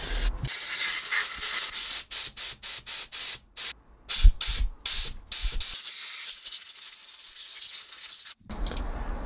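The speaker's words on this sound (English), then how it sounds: "Pilot jet and give that a spray." Aerosol carburettor cleaner hisses close up as it sprays a carburettor pilot jet in a long burst, then a series of short rapid bursts, ending with a longer spray.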